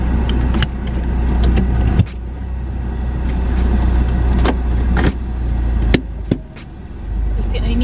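A car interior is filled with a steady low engine and road rumble while driving, with a few sharp clicks and knocks from inside the cabin and no talking.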